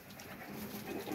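Pigeons of many breeds sit in cages at a bird market, giving low, soft cooing over a murmuring background for about a second, with no clear speech.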